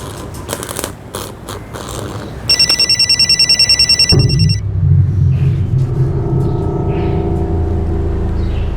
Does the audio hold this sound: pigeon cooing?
no